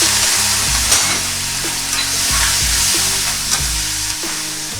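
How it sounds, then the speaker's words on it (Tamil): Vadagam, asafoetida and curry leaves sizzle in hot oil for a tempering in a Kongu-style rice and lentil one-pot meal, a loud, steady frying hiss close by with faint stirring knocks. "வடகம் நல்லா பொரிஞ்ச உடனே பெருங்காயம்,"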